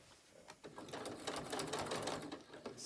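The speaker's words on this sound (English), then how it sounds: "I'm just going to stitch right on that line, about 1 inch" A sewing machine stitches a straight line across a fabric lanyard made from scraps, running in a steady, fast mechanical patter with small pauses and shifts in speed, close and fairly quiet.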